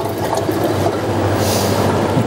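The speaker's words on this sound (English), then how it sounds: "Just quickly wash my hands." Hands being washed under a running kitchen tap: a steady, close rush of water with soft splashing and rubbing, continuous and fairly loud throughout.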